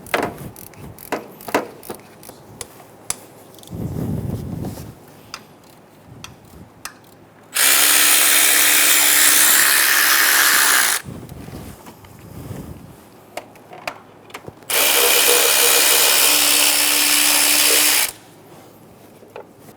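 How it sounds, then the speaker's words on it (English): A power tool with a 10mm socket spins out the lower timing cover bolts on a 2003-2007 Honda Accord, giving two loud, steady whirring bursts of about three seconds each, separated by quieter clicks and handling noises. "You're going to use a 10mm socket to remove all of the bolts for the lower timing cover."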